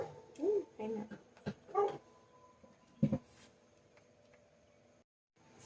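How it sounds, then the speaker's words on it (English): A dog indoors lets out several muffled barks and yelps at a moderate distance, irregularly spaced and mixed with faint background noise before falling quiet. "my dog started barking"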